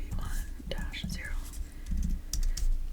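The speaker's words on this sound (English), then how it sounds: "I have to type the whole ISBN number" Rapid clicking keystrokes on a computer keyboard as a long ISBN number is entered in a library setting, irregular close-up taps mixed with soft whispered speech.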